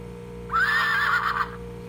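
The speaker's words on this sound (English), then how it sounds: "this is the magical walking horsey. Does what it's supposed to do. Oops. And then it makes noise." Battery-powered toy walking horse gives a single loud, warbling neigh lasting about a second, alone and close, over a steady mechanical hum.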